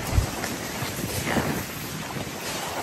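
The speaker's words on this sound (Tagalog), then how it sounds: "Nakikita nyo naman yung hangin" Wind buffets the microphone in a steady low rumble on an open overlook above a beach, with a hint of open outdoor air and distant water.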